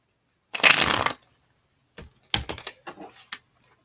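Tarot cards shuffled and spilling, a dense rustling flutter followed by a pause and then several quick slapping scatters, close and fairly loud.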